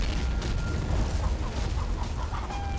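Dense flock of chickens in the Men of War video game clucking and squawking amid booming explosions, a loud, continuous chaotic mix of bird calls and blasts throughout.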